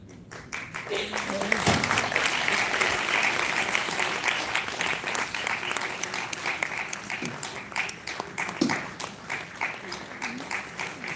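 An audience applauds as actors gather on stage, steady clapping filling the room for about eleven seconds with a voice talking over it.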